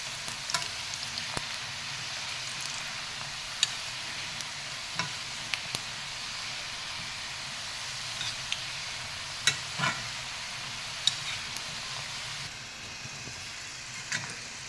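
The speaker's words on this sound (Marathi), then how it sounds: "हे छान मस्त असे तळून झालेले आहेत" Small semolina samosas fry in hot oil, producing a soft continuous sizzle and bubbling close by, with occasional faint clicks and taps, and no voices.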